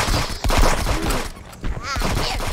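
Rapid video game gunfire in a multiplayer shooter, a dense sustained burst of loud shots that dips briefly midway and then picks up again, heard under a player's voice.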